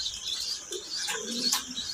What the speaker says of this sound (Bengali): দেখতে পাচ্ছেন এখানে বেশ কিছু কবুতর আছে।